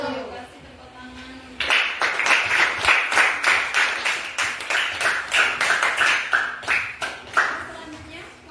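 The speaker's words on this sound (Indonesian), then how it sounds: "Kasih tepuk tangan." A classroom audience at a teacher-training session gives a burst of clapping right after a group's presentation, starting suddenly and continuing steadily for several seconds, fairly close and lively, with a little talk beneath it.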